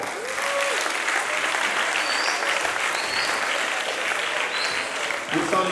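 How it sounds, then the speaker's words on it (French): An audience in a village claps loudly and continuously after a one-person show about nature conservation, a thick, sustained roar of hands with faint whistles rising above it. "Est-ce qu'on peut encore l'applaudir très très fort?"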